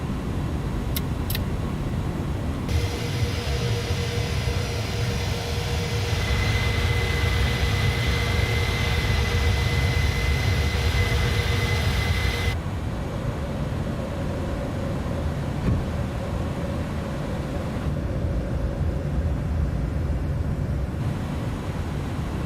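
Simulated Airbus A310 jet engines roar steadily through a takeoff roll and climb, a broad continuous rumble with shifting whining tones, no talk over it.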